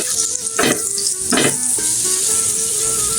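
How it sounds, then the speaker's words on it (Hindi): Garlic sizzles steadily in a hot pan while cooking egg fried rice, with two brief bursts of stirring scraping through the constant frying hiss. "बस 1 मिनट और इसे पकाएंगे तो ये हमारा लहसुन पक जाएगा।"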